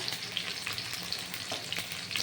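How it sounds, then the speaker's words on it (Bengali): Onion fries with spices in a pan, giving a constant close sizzle with frequent light scraping and stirring clicks throughout. "নাড়াচাড়া করে পেঁয়াজটা একটু ভাজা ভাজা হবে"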